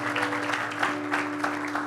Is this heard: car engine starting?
no